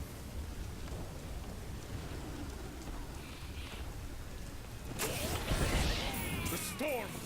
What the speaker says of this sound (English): The storm breaks.